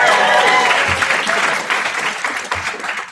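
An orientation audience applauds and cheers for an introduced internship advisor, a loud, dense burst of clapping that fills the whole moment and slowly eases off, with a few voices mixed into the crowd noise.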